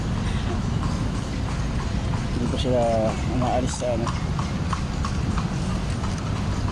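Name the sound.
horse hooves clip-clopping on street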